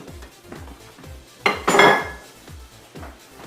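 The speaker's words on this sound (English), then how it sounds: "I'll put the sausage in." Sausage drops into a cooking pan with a sudden clatter of metal and a burst of sizzle, then quiets back to a low background of soft repeated thumps.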